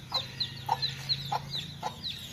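Young hens in Sivaganga cluck close by, with a series of about seven short, regular calls over a low steady hum and no talk.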